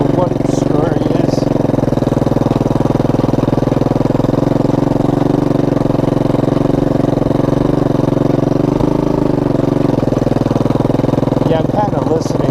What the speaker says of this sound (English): I don't know if that's the chain guard rattle back there or what its story is